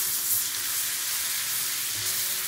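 Green chili and garlic paste frying in butter and oil, a steady dense sizzle and hiss that runs unbroken for a couple of seconds, close and fairly loud with no talking.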